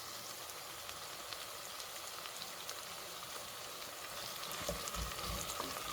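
Pieces of food fry in a pot for an African rice pilau dish, giving a steady, even sizzle with a few small crackles growing slightly louder toward the end.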